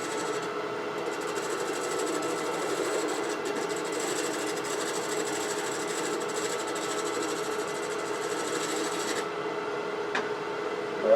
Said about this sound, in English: I'm going to use this old Harbor Freight 1-inch skew that's been refined as a double-sided shear scraper to kind of clean up fair those curves